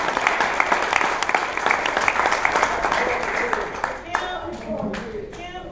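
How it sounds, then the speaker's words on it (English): A big round of audience applause at a 50th high school reunion, dense sustained clapping that tapers off near the end, with voices rising under it. "they really deserve a big round of applause"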